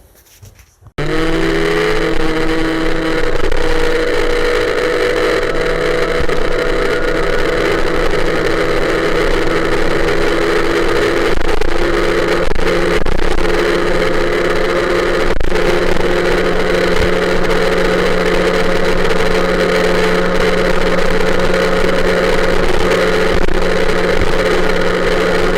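An MBK 51 moped engine fitted with a Giannelli exhaust starts up and runs steadily near the mic, a loud, constant buzzing drone with a slight pitch rise at the start and no one speaking.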